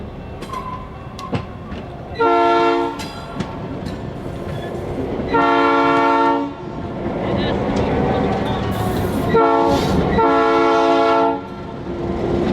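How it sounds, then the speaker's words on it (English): A Norfolk Southern freight train passes close by during a rail interchange. Its horn blasts loudly three times over a continuous rumble of railcars, and faint talk can be heard in the background. "exchange cars with Norfolk Southern train AC01 in what might be the fastest interchange we've ever seen"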